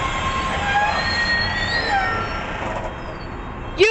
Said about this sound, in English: Goodbye, Harvard train.